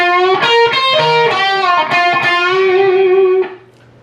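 Electric guitar lick from a song, played with a distorted tone: a quick run of picked and bent notes that settles into one long sustained bend, then cuts off, heard alone and close.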